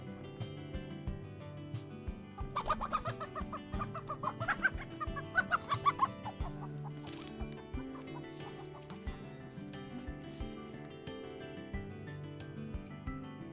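Several chickens cluck steadily over a busy background, with a livelier flurry of clucks partway through, heard fairly close on a farm with ducks and pigs, no talking.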